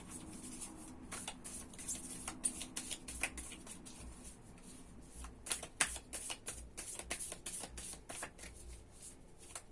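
Tarot cards are shuffled repeatedly at close range, a rapid, uneven riffling of soft flicks and slaps that continues for the whole stretch.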